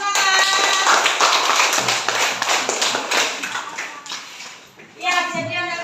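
A class of schoolchildren in a mathematics lesson applauds, a busy patter of many small hands clapping that thins out near the end as children's voices rise.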